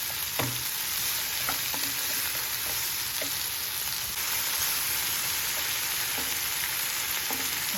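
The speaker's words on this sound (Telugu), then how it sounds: "ఇలా కొంచెం మనము ఆయిల్లోనే వేయించుకోవాలి." Chopped capsicum fries in hot oil in a pan, giving a steady close sizzle with occasional stirring clinks and scrapes throughout, no voice.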